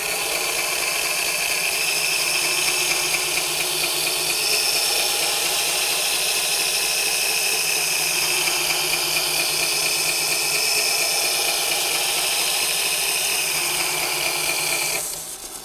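A hand tool blade being sharpened on an aggressive-grade plate of an Axminster Trade Ultimate Edge machine; a loud, steady motorized grinding whine runs continuously for about fifteen seconds, then cuts out abruptly at the end.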